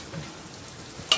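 Tadka spices sizzling in hot oil, a soft steady frying hiss with a brief sharper crackle near the end, heard alone and faint.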